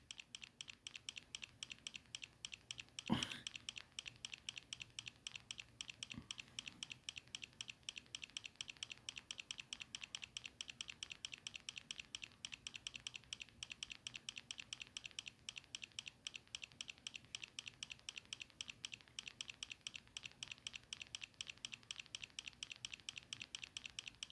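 Computer keyboard keys tapped rapidly and steadily for over twenty seconds, a fast, even, quiet clicking rhythm, with one sharp louder click early on and no talking.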